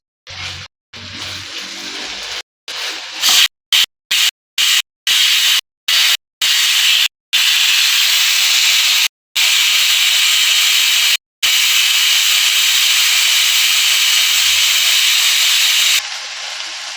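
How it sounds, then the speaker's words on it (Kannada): A pressure cooker cooking hotel-style idli sambar vents a loud, harsh steam hiss that cuts in and out in a rapid series of bursts, then settles into a long continuous whistle before dropping away near the end; no talk. "ಕುಕ್ಕರ್ ಕೂಗಿದೆ, ಆಫ್ ಮಾಡ್ತಾ ಇದ್ದೀನಿ ನಾನೀಗ."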